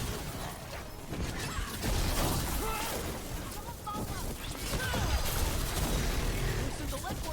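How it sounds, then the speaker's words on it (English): Gunfire rattles through a fight in Dragon Age: The Veilguard, with repeated shots and mechanical clatter in a dense, busy game mix under a talking voice. "the fucking guy just keeps shooting me"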